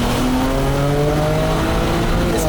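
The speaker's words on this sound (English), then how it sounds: "You know that the tires are spinning pretty much all of second gear" A tuned BMW 335i with traction control off strains hard in second gear, its engine note rising steadily over a loud, rough roar of spinning tires.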